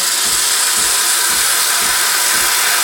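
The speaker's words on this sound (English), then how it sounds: "now we're producing a really nice lot of steam." An espresso machine's steam wand releases a loud, steady hiss that fills the whole clip without a break, with soft rhythmic low thumps pulsing beneath it.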